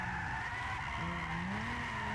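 Lexus GS300 drift build sliding sideways in Gran Turismo 6, with a loud, sustained tire squeal whose pitch wavers and rises, backed by a steady engine drone throughout, with no talking.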